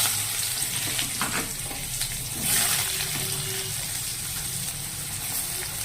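Onions frying in hot oil in a kadai, a continuous moderate sizzle with a few stirring scrapes and a brief louder hiss midway, no talking.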